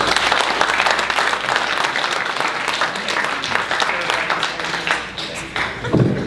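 An audience at a Free Play Florida 2014 gaming show applauds in a dense, sustained burst of clapping that stays loud throughout, then thins slightly and swells again at the end.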